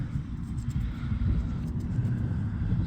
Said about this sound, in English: Sorry about the road noise if you can hear that.